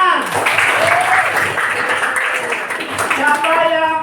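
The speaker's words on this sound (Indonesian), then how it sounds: "Bagus, tepuk tangan." Short burst of classroom applause from students during a lesson, quick scattered clapping mixed with overlapping children's voices and chatter, fairly close and loud.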